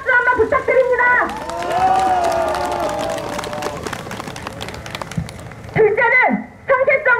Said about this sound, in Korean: 제 말에 동의하시면 큰 박수 한번 부탁드립니다.